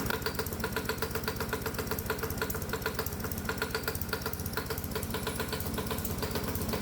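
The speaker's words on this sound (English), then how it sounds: "let's try running the engine with a mixture of alcohol and water" A hot bulb semi-diesel lawnmower engine runs on an alcohol and water mixture, its fast, even knocking beat steady and close throughout with no voices.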